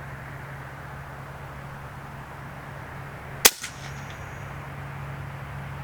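A single sharp crack from an AEA Challenger Pro air rifle firing at a 200-yard target outdoors, loud and abrupt with a brief ringing tail, followed by a faint echo against a quiet background hum.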